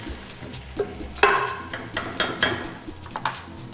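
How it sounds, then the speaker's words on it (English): Canned whole plum tomatoes hit a hot pan, with a soft sizzle broken by a few sharp clinks and scrapes of a utensil stirring against the pan. "you'll get that initial burst of sizzle"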